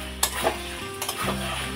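Kashmiri-style dum aloo stir-fried in a pan, a close, continuous sizzle with a couple of quick spatula scrapes over a short stretch.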